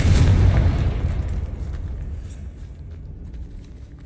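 A Confringo blasting spell explodes in Hogwarts Legacy, one loud, deep boom at the start that rumbles and slowly decays into a fading tail.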